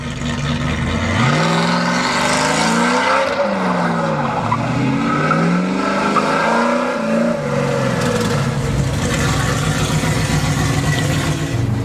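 A 1968 Dodge Charger R/T muscle car with a supercharger blower roars loudly, its engine pitch rising and falling through revs with squealing tires, continuous and close.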